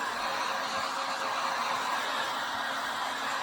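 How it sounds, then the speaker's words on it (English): A Harbor Freight heat gun drying craft paint blows a steady, airy broadband whoosh, constant and fairly close, with no change in pitch throughout. "I'm drying it with a heat gun that I got from Harbor Freight"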